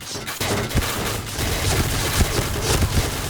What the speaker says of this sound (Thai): ปืนร้อยนัดในตำนาน